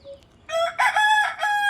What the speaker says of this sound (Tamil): இவங்க கூவி கூவி மாற்றி கூவி காதை அடைச்சிவிடும்